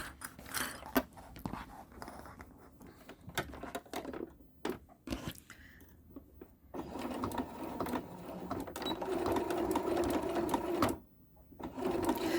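A sewing machine stitches binding onto a placemat or quilt, its motor running in short bursts with pauses, then a longer steady run toward the end, close and moderately loud.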